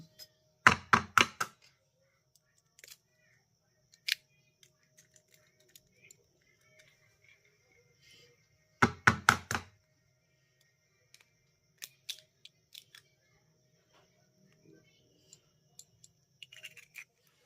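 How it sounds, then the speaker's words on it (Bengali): Eggs whisked with chopped onion, green chilli and coriander in a bowl: two quick bursts of sharp clattering strokes, near and fairly loud, separated by quiet stretches with a few faint isolated taps. "এবার ডিমটাকেও পেঁয়াজের সঙ্গে খুব ভালো করে ফেটিয়ে মিশিয়ে নিতে হবে"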